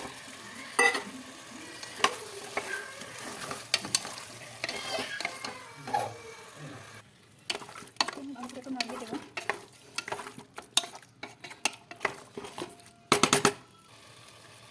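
Chicken pieces dropped into a hot pan for a chicken stew, hissing and frying while a spoon stirs and clinks against the metal in scattered bursts.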